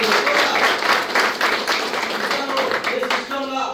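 Seminar audience applauding loudly and steadily for the full stretch, a dense wash of many hands clapping with some voices mixed in.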